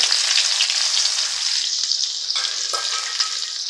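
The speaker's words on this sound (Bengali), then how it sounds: "এগুলো ভালো করে আমি হালকা লাল লাল করে ভেজে নেব।" Chopped garlic and onion fry in leftover oil from frying fish, giving a loud, continuous sizzling hiss with occasional stirring, without any voices.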